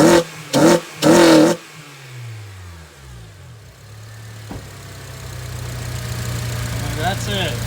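An Acura TSX fitted with a short ram intake, giving a few quick loud revs up close that then settle into a steady idle.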